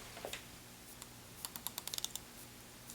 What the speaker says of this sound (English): You'll hear it clicking because it's got a little internal clicker plate